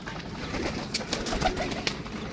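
Pigeons cooing close by in a loft or cage, soft repeated low coos with faint rustling, fairly quiet and alone.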